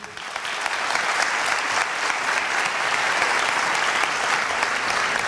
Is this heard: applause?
yes